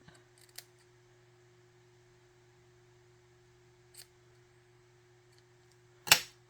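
Scissors trim watercolor-painted paper backgrounds in a quiet room, with three separate short snips spread out and a faint steady hum underneath.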